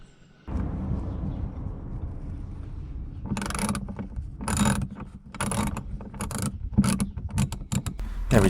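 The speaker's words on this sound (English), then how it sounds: "Torx bolts under here, what we're going to be undoing." A ratchet wrench undoing Torx bolts under the bumper of an Audi A5, rapid clicking bursts in short repeated runs, close and fairly quiet over a low steady background hum.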